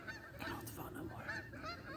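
Several geese honk repeatedly in a noisy, overlapping chorus, fairly faint and at a distance.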